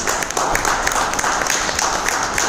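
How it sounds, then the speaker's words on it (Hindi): Sustained applause for Kaka from a crowd at a training session in a Mumbai office, steady dense clapping filling the room with no break. "काका के लिए जोरदार तालियां"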